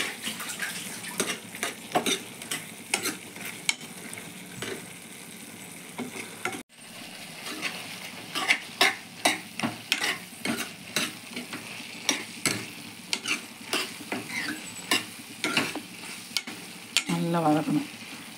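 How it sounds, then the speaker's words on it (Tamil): Raw banana pieces with masala, chicken masala powder and turmeric being stirred and sautéed in a frying pan, a steady soft sizzle under repeated scraping spoon strokes, fairly close and alone without talk. "அப்படியே வதக்கி நல்லா கிண்டணும்."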